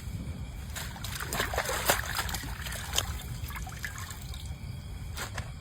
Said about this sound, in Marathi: आपण आता भाज्या स्वच्छ पाण्याने धुवून घेऊ